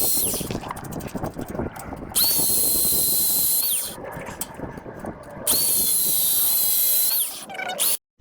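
A power drill bores a hole while a Mighty Mule 371 gate opener is installed. The loud, whining motor runs in long bursts with rising and falling pitch, and short pauses fall between the runs.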